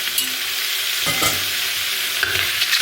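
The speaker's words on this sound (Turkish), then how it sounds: "Tenceremi önceden ocağa aldım ve direktmen içerisine boşaltıyorum." Loud, steady sizzling of beef pieces frying in a hot pot, close up, with occasional scrapes and clinks of stirring.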